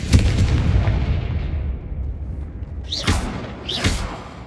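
Deep rumbling blasts from the Confringo spell in Hogwarts Legacy, a sustained booming roar followed by two sharper bursts with rising whooshing tails.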